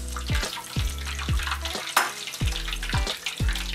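Pimento cheese hushpuppies frying in hot oil, a loud steady sizzle and bubbling with repeated low thumps and splashes as pieces are dropped in and turned, no voices.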